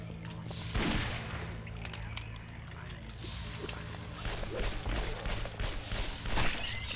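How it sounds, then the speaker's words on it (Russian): Bursts of rapid gunfire and single shots echo through the video game Guns, Gore & Cannoli, with voices talking over the shooting throughout. "Один выстрел, два трупа."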